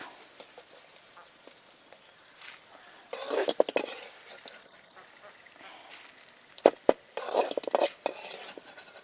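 Fried pappadam lifted from hot oil with a metal utensil in a home kitchen: two bursts of scraping, clinking and rustling against the pan, with quiet background between them.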